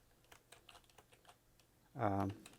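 Light computer keyboard typing, a quiet run of soft, irregular key taps near the microphone, followed by a short louder voiced sound near the end.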